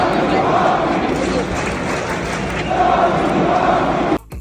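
A big hockey crowd chants and roars in a dense, steady wall of voices that swells midway and cuts off abruptly near the end.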